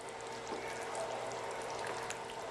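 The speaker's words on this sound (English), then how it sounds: "I'm going to pour all this tuna sauce in there until it's all covered." Tuna sauce made with cream of mushroom soup being poured over pasta for a tuna casserole, a faint, steady wet pouring and trickling sound close by in a quiet kitchen.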